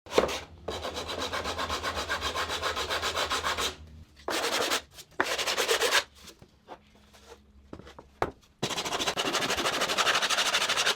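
Hand sanding on wood with a Dura-Grit sanding block: rapid, rhythmic scratchy rubbing strokes in several bursts separated by short pauses, close and fairly loud, no talking.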